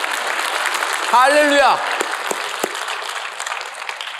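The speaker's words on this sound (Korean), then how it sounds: "우리 하나님께 영광의 박수 한번 하죠." Church congregation applauding in a sustained burst of clapping, with a sung or spoken "hallelujah" rising over the applause partway through.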